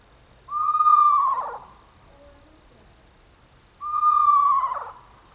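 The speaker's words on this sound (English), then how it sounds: "Okay, so here is the screech owl." A screech owl's descending whinny call, repeated twice with a pause between, clear and fairly close against a quiet background.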